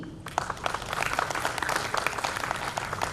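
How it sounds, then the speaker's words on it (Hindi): Dense, steady applause from an audience at a women's day story reading, many hands clapping at once, filling the space continuously from start to finish. "मेरा आप सबसे अनुरोध है कि आप सब उनका तालियों के साथ स्वागत करें"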